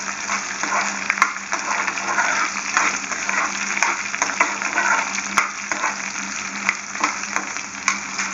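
Eggplant pieces frying lightly in hot oil for a South Indian vathakuzhambu, giving a steady, close, continuous sizzle with small crackles and no talking.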